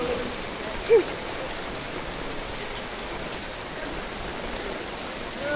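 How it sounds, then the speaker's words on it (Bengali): Heavy monsoon rain pours steadily onto a flooded city street, a soft, even hiss of downpour heard from a distance with no other distinct sounds. "এক বৃষ্টিতে সকাল থেকে নামতেছে বৃষ্টি।"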